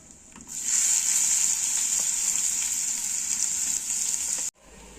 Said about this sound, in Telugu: రొయ్యలు ఫ్రై అయిన ఆనియన్స్ వేసుకుందాం